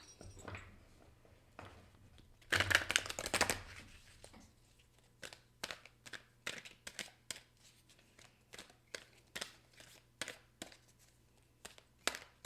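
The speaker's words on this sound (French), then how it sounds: "Je vais prendre une carte oracle des couleurs." Color oracle cards are handled and drawn, making soft papery rustles, a brief shuffling burst and a series of quiet, irregular taps and slides. The sounds are close and faint, with no talking.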